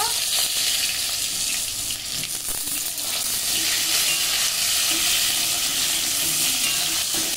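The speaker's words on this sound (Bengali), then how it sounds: "পটলগুলো হালকা করে ভেজে নেব।" Pieces of pointed gourd, lightly dusted with turmeric, sizzle and crackle steadily in hot oil in a pan, with occasional stirring scrapes.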